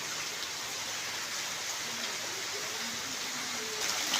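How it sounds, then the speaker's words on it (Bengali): Continuous rainfall patters evenly in Noakhali, Bangladesh, a constant broadband hiss with a soft low tone drifting through and no one speaking. "নোয়াখালী আবার বৃষ্টি হইতেছে"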